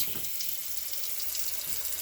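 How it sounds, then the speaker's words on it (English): Continuous rushing hiss of water filling a toilet tank, steady and nearby, with no voices. "you can probably already hear it. The toilet flowing."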